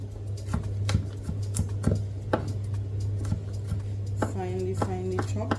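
A knife chops garlic finely on a board in a home kitchen, sharp irregular taps spaced about a half second apart over a steady low hum, with a brief voice near the end.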